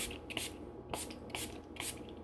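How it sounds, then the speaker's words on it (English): A spray bottle mists hydrogen peroxide onto aquarium plants in four short, hissing bursts spaced about half a second apart, close to the microphone and with no talking. "I'll just spray it on, leave it on for a minute."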